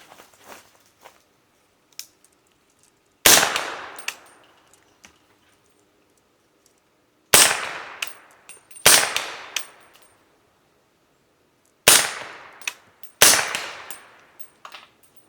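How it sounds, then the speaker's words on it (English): An AR-15 rifle in 300 Blackout fitted with a SureFire bolt carrier group fires five sharp, loud shots outdoors at irregular intervals, some spaced close together, each followed by a short decaying echo, with faint clicks between them and no talking. "We're going to go throw 5 more in there real quick with the SureFire and put some rounds down."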